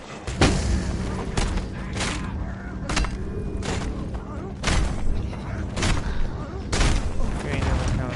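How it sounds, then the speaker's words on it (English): An exploding enemy blows up in the Mad Max video game amid loud, repeated booms and bursts of gunfire, each blast sharp and heavy, while people talk over the action. "There's an exploding guy."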